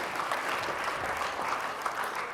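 An audience at a school band concert claps steadily, a dense, even wash of applause from a full room, continuous throughout.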